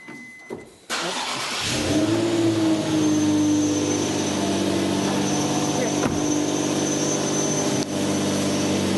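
A car engine cranks and catches with a sudden burst, then settles into a loud, steady running drone with rising revs, close by; people talk over it.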